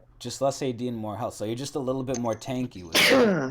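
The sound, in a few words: person sneezing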